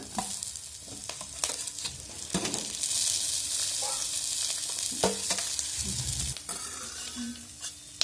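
Tomatoes frying in hot oil with ginger for a chicken sambar, a steady close sizzle with occasional stirring scrapes and clinks throughout, no talk.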